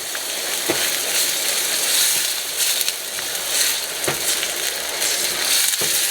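Tomato sauce hits a hot skillet while eggplant parmesan is being made, producing a loud, steady broadband sizzle with faint scattered scrapes and clicks, and no voices.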